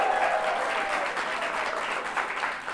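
A studio audience applauds steadily throughout, a dense, even wash of clapping that holds at a consistent level without pause from start to finish.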